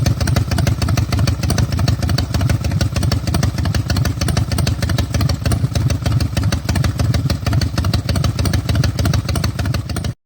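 A 2011 CPI DRM custom chopper motorcycle in bold orange runs loud and close, its engine thumping in a rapid, even rhythm throughout with no talk.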